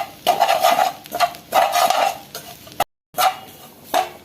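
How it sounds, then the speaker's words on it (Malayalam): Curry leaves roasting in a pan for Kerala theeyal curry: busy crackling and scraping bursts with stirring clatter against the pan, close and fairly loud, with one brief gap of silence. "നന്നായിട്ട് കഴുകിയെടുത്ത കുറച്ച് കറിവേപ്പില അതും ഇട്ട് ഇനി വറുത്തെടുക്കാം"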